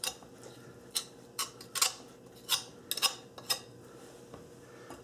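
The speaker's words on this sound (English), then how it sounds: "If you want, you could scrap those bones a little bit more" A knife scrapes leftover meat off the bones of a pork rack, with sparse, sharp scraping strokes and light clicks coming close and quiet, separated by short pauses.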